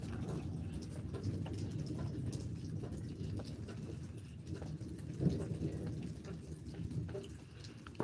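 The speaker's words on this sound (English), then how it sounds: "I got some good rain." Rain falling during a lightning storm: a steady patter of rain on surfaces with low rumbling underneath and a slightly louder swell midway, moderately quiet and continuous, no talk.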